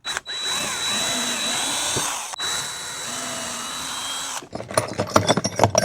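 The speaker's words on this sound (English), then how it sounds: "Now we're actually gonna screw a pilot hole in here too." Two long bursts of a power drill whirring into wood drilling a pilot hole, close and loud, with a brief pause between, followed by clattering handling noises.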